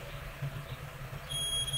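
A multimeter gives a continuity beep while testing fuse F6202 on a PS4 board, a faint, steady high-pitched tone that starts late and sits over a low electrical hum.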